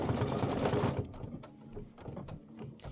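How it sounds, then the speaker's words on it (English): A machine-embroidery setup sews a placement line for dimensional wings on the back of a Kimberbell Wallflower quilt block, with rapid, steady needle chatter that is loud at first and then softer and more uneven. "It's going to stitch it right on the back."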